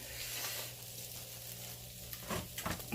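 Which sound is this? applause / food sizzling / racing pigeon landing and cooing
food sizzling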